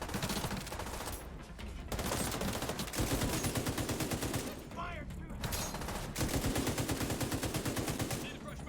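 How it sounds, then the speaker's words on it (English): Rapid gunfire from the video game The Division 2, sustained bursts of automatic shots rattling almost continuously with brief pauses between volleys, loud and close. "I fire a lot of bullets in this game."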